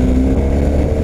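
A BMW R 1250 GS motorcycle engine runs loud and close, giving a brief, steady throaty drone held at high revs.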